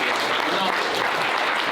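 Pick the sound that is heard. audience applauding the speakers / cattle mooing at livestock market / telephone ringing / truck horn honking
audience applauding the speakers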